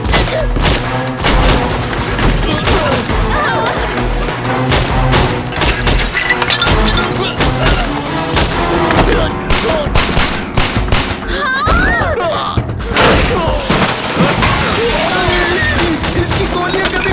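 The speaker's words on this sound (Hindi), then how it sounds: "इसकी गोलियां कभी खत्म नहीं होंगी क्या?" Loud, sustained bursts of rapid automatic machine-gun fire in an adventure film, with shattering impacts, continuous and close throughout.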